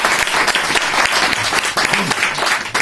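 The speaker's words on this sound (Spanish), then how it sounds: "Bueno, un aplauso primero." Audience at a talk breaks into sustained, dense applause, loud and close throughout, with a few voices faintly mixed in under the clapping.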